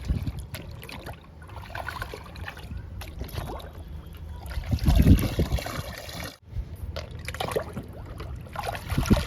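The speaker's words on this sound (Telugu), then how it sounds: "ఇచ్చేద్దాము మొక్కలకి లిక్విడ్ని" Liquid fertilizer mixed in water poured onto garden plants, starting with hibiscus, giving a steady close trickle and splash that swells briefly mid-pour, with no talk.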